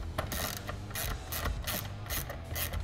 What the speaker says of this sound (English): I'm gonna start by undoing the paddle shifters.